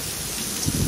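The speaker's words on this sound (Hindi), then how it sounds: "बहुत ही मज़ेदार बारिश हो रही है" Heavy monsoon rain falls steadily as a dense broadband hiss, with a few louder low splashes near the end and no voices.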